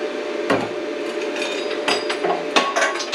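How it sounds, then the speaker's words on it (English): Hammer blows bang sheet metal into place while a can smelter is being built. About four or five irregular sharp metallic strikes ring close over a steady background hum, with no talking. "I'll bang that into place with a hammer once I get one side tacked in"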